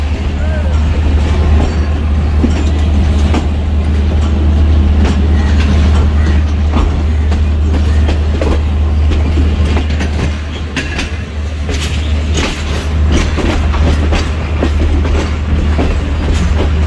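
A Pakistani passenger train pulls out of Rawalpindi station, heard from inside the locomotive cab: a loud steady engine drone with continuous clickety-clack of wheels on rails, and voices faintly underneath.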